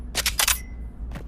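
A modern carbine is reloaded in the VR game Pavlov Shack: a quick series of sharp mechanical clicks and clacks, followed by a single softer click after a brief pause, close and crisp.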